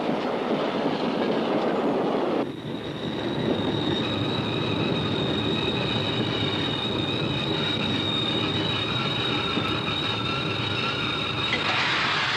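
A train rumbles steadily along the rails, its wheels squealing in a high, sustained whine over the continuous rolling noise.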